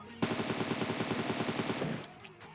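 Rapid automatic gunfire in a shooter video game with ghillie-suit players, a single close burst of about twenty tightly spaced shots lasting under two seconds, then quiet.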